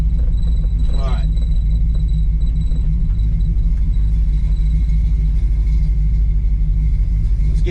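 A truck's engine rumbles heavily and steadily while driving, a loud, constant low drone filling the whole stretch, with a voice talking briefly over it.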